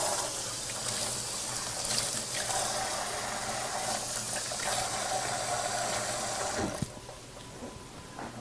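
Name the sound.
washing hands under running water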